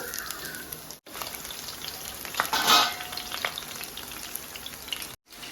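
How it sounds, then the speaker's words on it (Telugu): Onions frying in hot oil for a chicken fry, a continuous close crackling sizzle that swells briefly in the middle, as if stirred or freshly tossed, with no talking. "ఫ్రైకి ఆయిల్ హీట్ అయింది దానిలోనే ఆనియన్స్"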